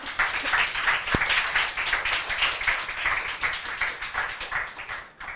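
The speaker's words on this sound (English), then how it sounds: "Please give me and Peggy a round of applause." An audience at a tech talk on programming IoT devices with Cylon.js breaks into a round of applause, dense clapping, fairly close, for about five seconds with no speech over it.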